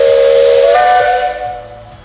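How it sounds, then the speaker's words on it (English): A narrow gauge steam locomotive from the Bellarine Railway gives a loud, close whistle blast over hissing steam; the whistle cuts off after about a second and the hiss fades away. "narrow gauge locomotive Klondike from the Bellarine Railway, which will be in steam."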